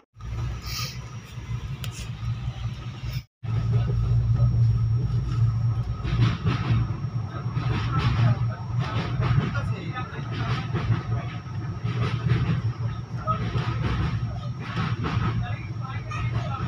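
Paharia Express runs steadily toward Bagnan station with a continuous low rumble and rattle of carriages, briefly cut off near the start, while a person talks over it.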